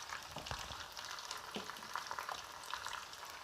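Chicken pieces sizzle and fry in hot oil with salt, red chilli, ground ginger and other spices for Arabic kabsa rice, a steady close crackle with small pops and no voices.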